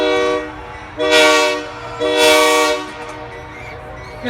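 Steam train whistle on the Georgetown Loop Railroad, sounding two long, loud toots in a row, each about a second, with a rumbling train and faint tail of a third onset at the end.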